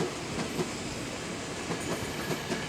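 Train rolling along a railway line near a Jakarta construction site, a steady broadband rumble with faint rhythmic wheel clatter throughout, moderately close and without voices.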